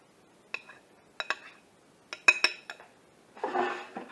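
Dessert ingredients are mixed together in a dish for a grandma's special layered dessert, giving a few sharp utensil clinks and scrapes against the dish in separate bursts, ending in a longer rustling scrape.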